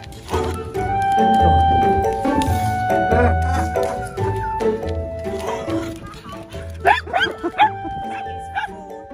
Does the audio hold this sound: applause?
no